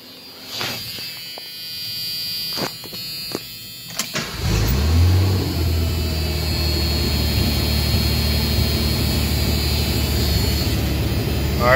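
A 1985 Ford Ranger with a carbureted 2.8 engine cranks in a few short bursts, catches and fires up, then settles into a loud, steady idle with slight revving, with no talking.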